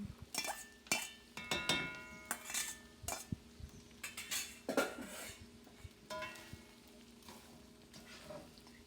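Rice and softened vegetables being mixed together in a hot pan for vegetable egg fried rice, with a steady sizzle under repeated scraping and clinking of a utensil against the metal, close and fairly busy.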